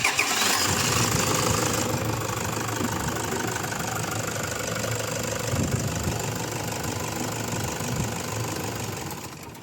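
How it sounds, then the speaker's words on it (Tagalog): Toyota Fortuner engine cranking and catching after an oil filter housing repair, then settling into a loud, steady, slightly knocking idle that fades a little toward the end. "At pwede ko na ngayon pa-start itong makina."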